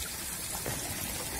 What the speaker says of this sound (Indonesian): Suara gemericik air itu bikin ketenangan